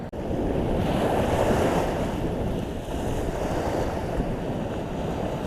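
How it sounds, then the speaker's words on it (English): Large waves crash and churn steadily on the shore of Pyramid Lake, a continuous loud roar of surf mixed with strong wind buffeting the microphone, with no voices. "Getting beat up by friggin' ocean-sized waves here"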